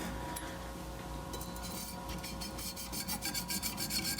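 Dull chef's knife drawn across fine whetstones, a dry rasping rub that repeats in quick strokes, faster and louder toward the end, heard up close with no talk.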